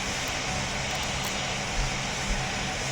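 A Boeing airliner in the Roblox flight game PTFS, a constant broadband engine roar and rush of air filling the whole stretch with no talking.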